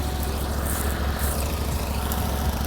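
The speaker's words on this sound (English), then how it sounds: "Back to mowing." A lawn mower engine runs steadily during mowing on a wooded property, a continuous droning hum heard close and moderately loud without speech.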